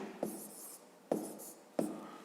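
Numbers being written by hand for a fifth-grade math exercise: three short pen or pencil scratches on paper, close and quiet, with pauses between strokes.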